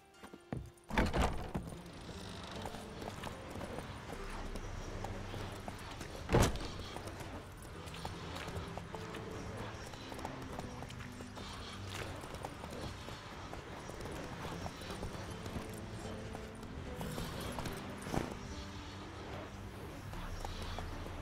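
Roach, Geralt's horse in The Witcher 3, trotting with steady hoof clip-clops over a continuous game music and ambient bed, with a sharper thump early on and another near the middle.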